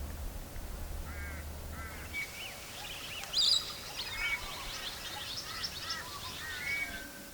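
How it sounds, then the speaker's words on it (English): Australian ringneck parrots call from some distance in open mallee scrub, several short harsh squawks scattered over a faint outdoor background. "the Australian ringneck."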